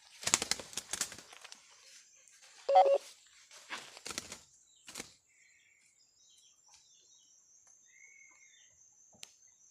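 A bird-hunting caller's sharp chirps and whistled notes, bursting in short groups at first, then fading to faint scattered calls and a thin high whine.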